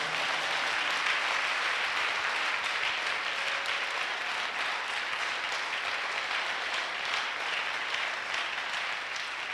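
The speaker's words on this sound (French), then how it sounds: "If you are happy, just give the Lord a big clap." A church congregation clapping for the Lord in a continuous, dense wash of applause, loud and sustained throughout with no clear breaks.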